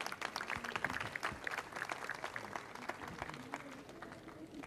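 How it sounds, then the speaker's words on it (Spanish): An audience at a project presentation event applauds with dense, continuous clapping that sounds fairly distant and faint, holding steady for several seconds. "Un aplauso a todos."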